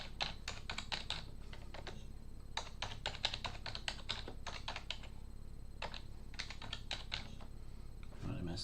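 Quick bursts of keystrokes on a computer keyboard as a username and password are typed for an administrator account, the clicks coming in uneven runs with short pauses, close and clear over a faint steady room hum.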